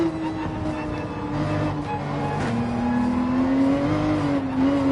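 Porsche 911 race car in Gran Turismo 7 holds a steady, loud engine drone that climbs in pitch as it accelerates, with brief shifts in tone, and no one talks over it.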